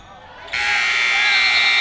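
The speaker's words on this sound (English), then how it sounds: "It was Isaiah Ondrik trying to go for the buzzer beater." A loud, harsh electronic buzzer blares at a high school boys' basketball game between Vernon and Sir Charles Tupper, starting abruptly after a quiet moment and holding steady to the end.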